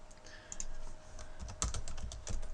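Fingers typing a password on a computer keyboard, a quick run of soft, close key clicks at an uneven pace, fairly quiet and with no talking.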